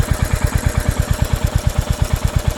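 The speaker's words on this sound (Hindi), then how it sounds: "हाँ पर ये इंजन की आवाज़ आपको थोड़ी सी चेंज हो जाती है" A 2024 Royal Enfield Hunter 350 engine idles steadily up close, its low thumping pulses repeating quickly and evenly throughout.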